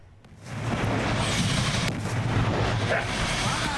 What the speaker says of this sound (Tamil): லாரி கவிழ்ந்து அதிலிருந்த சிலிண்டர்கள் ஒன்றன் பின் ஒன்றாக வெடித்து சிதறியதால்